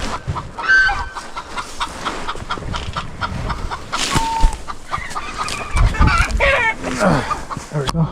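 Chickens cluck and squawk around a ranch yard in a steady, busy chorus of close and scattered calls, with a brief crow-like cry and light background movement.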